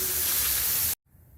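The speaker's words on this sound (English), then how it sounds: "You can see some of the fizzing and the vapor coming off of it, turning white." Etching solution fizzes on a concrete garage floor during a Rust-Oleum RockSolid coating job, producing a loud, broad hissing spray that cuts off abruptly and leaves a faint hum.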